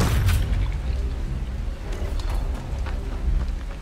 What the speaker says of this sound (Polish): No pewnie jakaś ta beczka wybuchła.